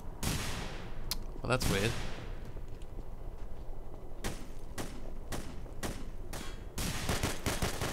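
Paint-shooting gun fired in The Hidden, a series of sharp bursts spaced irregularly across the clip, with rapid clustered shots near the end and someone speaking briefly.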